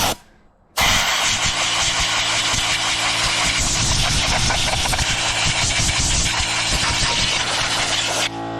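Blower fans of a Jotul fireplace insert whir steadily after a brief quiet start, a loud, continuous broadband rush with a low motor hum underneath, running without pause.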